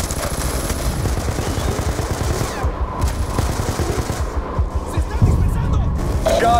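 Call of Duty Black Ops II gunfire on the Fob Spectre map: sustained, rapid machine-gun bursts and scattered shots fill the battle, with game radio voices mixed in under the shooting.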